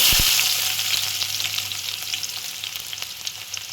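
Onion and red chilli fry in hot oil, giving a loud hissing sizzle that eases slightly and carries on with light crackles and stirring taps.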